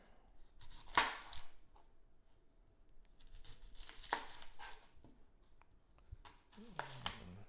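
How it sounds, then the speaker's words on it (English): An onion is diced with a knife in a home kitchen while bacon cooks nearby. A few sharp, separate cuts land against a cutting board amid quiet handling and rustling. "I'll go ahead and cut up my onion."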